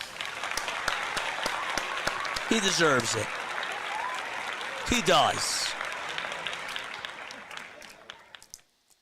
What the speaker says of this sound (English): can we give this guy a round of applause for that?